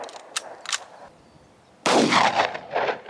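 A $100 pistol firing at a long-range target: two faint sharp pops, then a sudden loud broadband blast that rolls on as a noisy, lingering burst.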